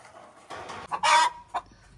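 A few close, sharp clucks and squawks from homestead chickens, including a broody hen, in quick succession, with quiet pauses between.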